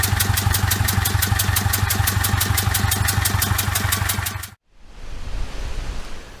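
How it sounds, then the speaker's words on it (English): A Volvo Penta 2002 marine diesel engine with injector blow-by runs in a fast, evenly pulsing knock, loud and close. It stops abruptly and a softer, steady broadband hiss follows after a brief gap. "If you don't know what injector blow-by is, it's this"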